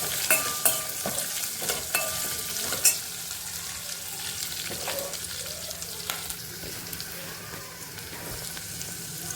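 Onion fries in a pan while being stirred, a continuous crackling sizzle marked by several sharp scraping knocks of the spoon early on, with no voices.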